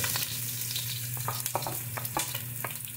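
Ginger sizzles and fries in hot oil in a pan, a steady bright crackle with occasional stirring scrapes, close and continuous with no talk.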